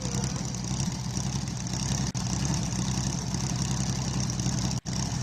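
An air-cooled Porsche 911 on a hill climb course at a classic car speed event, its engine holding a steady, loud, broad rumble throughout with two brief dropouts.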